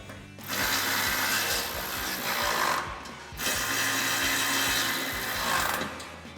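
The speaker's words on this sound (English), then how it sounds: "take a 17mm socket to tighten those down" A 17mm socket drives bolts on a RedRock TCX HD front bumper being fitted to a 2019-2021 Silverado 1500, giving two sustained, loud whirring bursts with a short break between them, close up.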